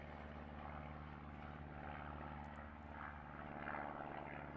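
A small, nimble Pitts S1 aerobatic biplane flies at an aerobatics championship, its propeller engine droning steadily and loudly throughout with a slight rise near the end, no talking.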